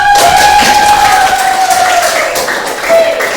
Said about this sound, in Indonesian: silakan duduk, tepuk tangan dulu